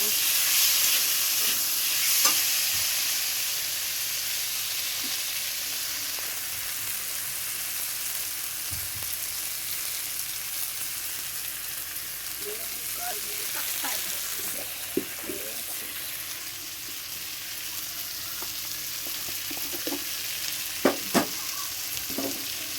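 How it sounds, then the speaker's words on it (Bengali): Fish frying in a pan with turmeric and chili powder, a continuous soft sizzle and hiss with occasional light scrapes and clinks of stirring, fairly quiet throughout with no talking. "ভালো করে নাড়িয়ে নিয়েছি মাছটা।"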